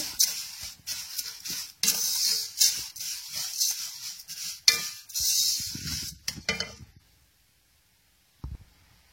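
Sugar is stirred into golden vermicelli in a pot: close, scraping and rustling strokes with soft clinks come in bursts for about six seconds, then the pot goes quiet apart from one last brief knock.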